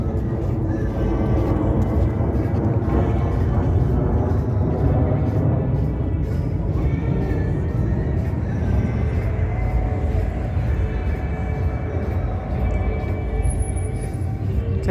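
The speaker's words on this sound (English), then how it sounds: "a jet somewhere above me here." A jet passes somewhere high above the Las Vegas Strip, a steady distant roar blended with the low rumble of street traffic for the whole stretch.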